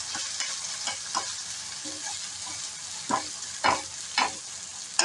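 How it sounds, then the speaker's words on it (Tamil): Curry leaves and grated coconut hitting hot coconut oil for the tempering of a ridge gourd dish, a steady crackling sizzle with several louder bursts of spitting and stirring, close up and without speech. "கொஞ்சோண்டு கருவேப்பிலை தேங்காய் திருவி வச்சதை போடுறேன்"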